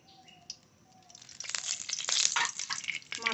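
Oil poured into a frying pan still holding fish oil sizzles and crackles, starting quiet and swelling into loud, busy spattering up close.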